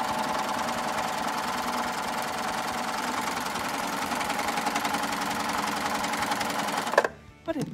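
A Triumph cover stitch sewing machine runs steadily at speed, a close, continuous rapid mechanical chatter that stops abruptly near the end.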